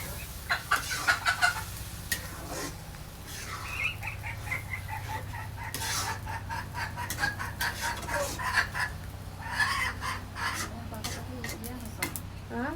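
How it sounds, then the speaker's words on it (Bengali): Chickens cluck repeatedly and a rooster crows at a village home where food is cooked on a clay stove, the calls rising and falling close by with people talking in the background throughout. "আমাদের বাড়িতে 2টা মুরগি আছে।"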